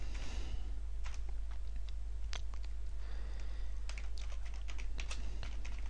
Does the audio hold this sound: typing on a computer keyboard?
yes